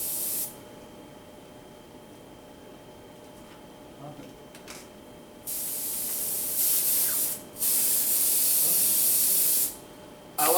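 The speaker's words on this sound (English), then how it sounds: "I like applying it with an airbrush because there's no brush marks" An airbrush hisses as it sprays wood dye in short bursts, some longer and some brief, with quiet gaps between them.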